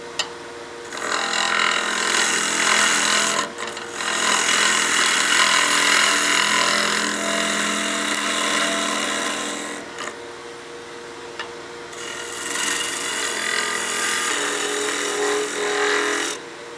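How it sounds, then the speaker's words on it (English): A wood lathe whirs while turning a snowman oil candle, the cutting tool bouncing, chattering and scraping on flat spots of the spinning wood, rising and easing in several passes, close and continuous. "You hear the tool bouncing a little bit."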